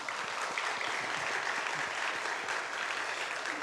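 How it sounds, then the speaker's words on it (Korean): A church congregation at an afternoon worship service claps in a dense, steady round of applause that fills the room evenly for several seconds. "박수를 한번."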